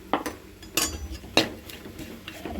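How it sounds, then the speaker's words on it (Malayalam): A utensil scrapes and clinks against a metal pot in several brief, irregular strokes while stirring fenugreek powder into a murrel fish curry, close by and fairly quiet. "ഇനി ഇതും കൂടെ ചേർത്തൊന്ന് ഇളക്കട്ടെ"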